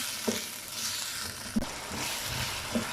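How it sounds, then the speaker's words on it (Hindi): Potatoes frying in a pan for aloo pulao give a soft, faint sizzle with three brief stirring knocks spaced about a second apart, no voices. "तकरीबन 1 से 2 मिनट के लिए आलू को फ्राई करेंगे।"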